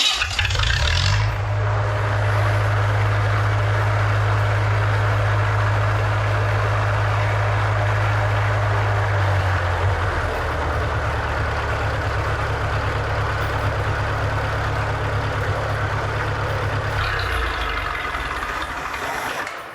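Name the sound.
Lincoln Electric SA-200 welder engine running at low idle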